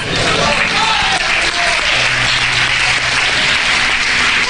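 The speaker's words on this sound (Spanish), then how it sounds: "Dale un aplauso al Señor" A church congregation applauds the Lord, a loud continuous wash of clapping and crowd noise with voices mixed in underneath throughout.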